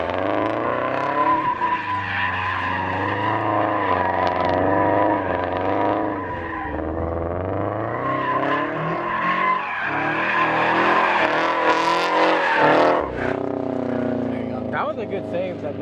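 A car drifting with its tires skidding and squealing in long, loud, wavering screeches over a revving engine, with clutch kicks and surging throttle, heard close throughout as people talk.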